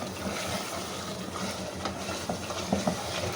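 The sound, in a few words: mutton curry with yogurt frying and being stirred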